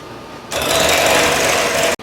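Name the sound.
hand mixer beating heavy whipping cream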